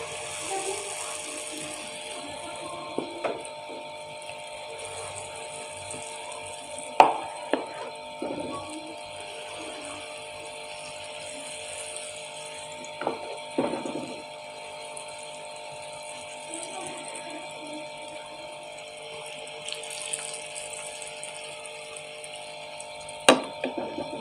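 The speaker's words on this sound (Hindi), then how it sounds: "ऑयल हमारा गर्म हो चुका है। हम भल्ले डाल देते हैं अपने।" Dahi bhalla lentil dumplings fry in hot oil with a continuous soft sizzling hiss, broken by occasional sharper crackles and pops from the pan, heard close.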